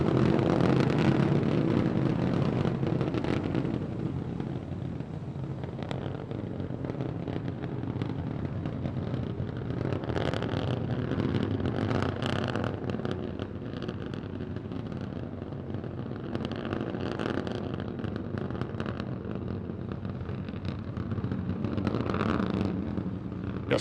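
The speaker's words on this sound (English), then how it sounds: "All 3 Raptor engines continuing to burn." Three Raptor rocket engines burn on a SpaceX Starship SN15 in flight during a high-altitude test: a continuous, distant broadband roar with a rough, crackling texture that holds steady throughout.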